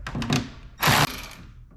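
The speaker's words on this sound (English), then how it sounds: "Now I want to remove two nuts, one on each side, that are facing this way." A ratchet works loose nuts on a Ford Super Duty grille, a few close mechanical clicks and rasping turns followed by a sharp metallic burst and a softer trailing rattle.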